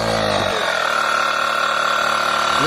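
A compact TRAVELMAN jump starter's built-in air compressor inflating a car tyre, running as a steady, fairly quiet mechanical hum with a constant tone after starting up, close by and without talking.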